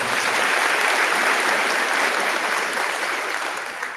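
A graduation audience at a Rocky Mount High School commencement breaks into steady, dense applause that holds for a few seconds and then tapers slightly toward the end.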